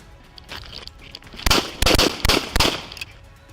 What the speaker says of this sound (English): I returned fire.